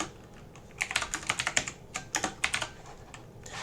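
Notes are typed on a computer keyboard, a close burst of quick, uneven key clicks in a row, with quiet gaps at the start and end and no voices.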